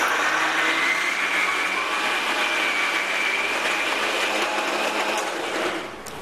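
Electric grinder coarsely grinding soaked moong dal with salt left out, a loud steady whirring motor running without a break for about six seconds and easing off at the very end.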